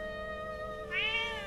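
A cat in the Zelda: Echoes of Wisdom game gives a single clear, close meow over a steady tonal music bed.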